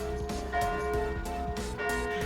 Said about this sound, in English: It's the church bell, which is a sound that they have going constantly here.